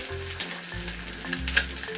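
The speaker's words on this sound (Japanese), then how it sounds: "さあこの鉄のフライパンで焼く目玉焼きは どうでしょうか" A fried egg sizzles in an iron frying pan that has been used for about five years, a dense, close, steady hiss with faint crackles and a low hum beneath, no voices.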